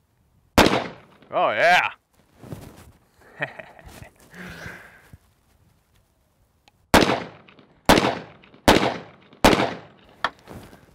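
A Double Barrel 1911 pistol fires two rounds at a time, one loud crack early, then someone speaks, then five sharp reports in quick succession near the end, close and echoing.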